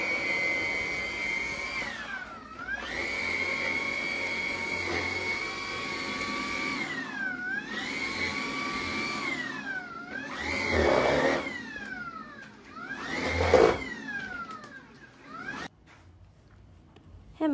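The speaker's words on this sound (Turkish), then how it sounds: "Hemen tabi dağınıklığını süpürüyorum." A vacuum cleaner sweeps up the loose yarn mess left from rug tufting, its steady motor whine rising and falling in pitch as it is pushed back and forth, with rougher bursts as clumps are sucked in near the end.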